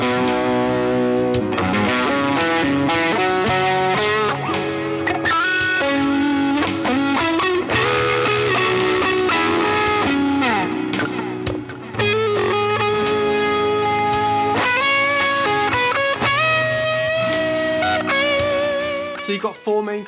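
An electric guitar plays chords and single notes through a smooth, crunchy overdrive pedal, loud and sustained throughout with a thick distorted tone.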